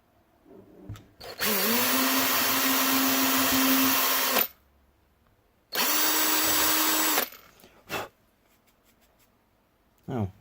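A power drill enlarges holes in the plastic casing of a Yaesu MH-48 microphone, with one long whining burst of about three seconds, then a shorter burst, followed by a couple of brief knocks and handling noises.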